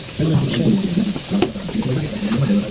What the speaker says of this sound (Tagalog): Unya, gigisa dayon nako ang mga lamas, kamatis, o gipakulo-kuloan.